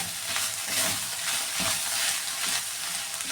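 Bitter gourd thoran is stirred in a hot pan, with steady sizzling and frying and the soft scrape of a spoon running continuously, close and fairly loud, with no talking.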